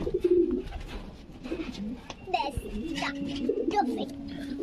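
Pet low-flying pigeons coo in soft, repeated throaty calls nearby, with a person talking in between and light background bustle.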